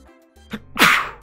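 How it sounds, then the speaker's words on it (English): A single loud sneeze bursts out close to the mic after a short intake of breath, sharp and explosive, then trails off. "Oh, I'm gonna sneeze at some point."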